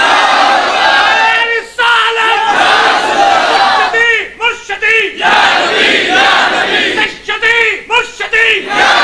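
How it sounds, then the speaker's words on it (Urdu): A gathered crowd at a religious sermon shouts a slogan in unison, loud rhythmic bursts of massed voices repeated several times, separated by brief pauses. "آپ دوبارہ نعرہ لگائیں."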